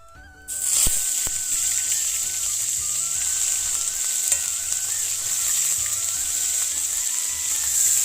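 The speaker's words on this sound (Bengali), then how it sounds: "পেঁয়াজটা ভাজা ভাজা হয়ে গেছে" A loud, steady sizzle of onion paste frying in a wok begins abruptly and holds constant, with faint scraping underneath and no speech.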